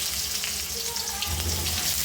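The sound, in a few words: potatoes frying in oil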